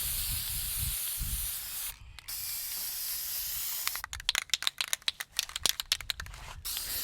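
Hissing bursts from a white spray paint can, first a couple of longer sprays, then a rapid series of short, sharp spurts close by.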